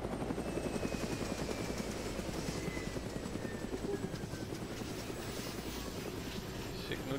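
Steady rotor chop of a helicopter hovering close by in Arma 3, a dense rumbling flutter that holds throughout with a faint whine above it.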